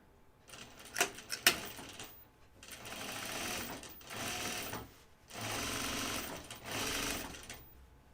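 A sewing machine runs in several short bursts along the seam of a pair of jeans. Each burst is a rapid, fairly quiet mechanical whir, with a few sharp clicks near the start and pauses between runs.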